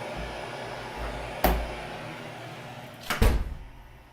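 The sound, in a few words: door being closed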